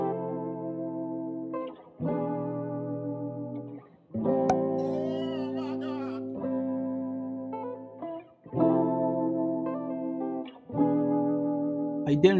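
Several layered, effects-laden guitar tracks built in FL Studio for an Afrobeat loop play together as bright, echoing chord stabs in a repeating pattern, sustaining between short breaks, with no talking.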